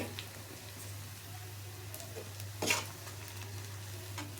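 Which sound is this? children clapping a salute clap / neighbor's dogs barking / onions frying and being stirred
onions frying and being stirred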